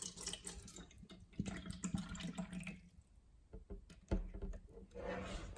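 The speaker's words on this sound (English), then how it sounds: "Let's pour some water in." Great Value alkaline bottled water being poured into a container, a close splashing and trickling stream with gurgles that rises and falls over several seconds.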